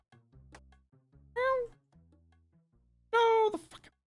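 Two loud, clear meows from the ripper cat in Old School Runescape, one short and one longer, over quiet game background.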